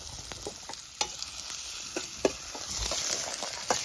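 Marinated chicken fries in a hot pan at a village-style cooking session, a steady close sizzle broken by sharp clicks and scrapes of a stirring spoon.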